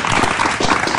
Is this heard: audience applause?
yes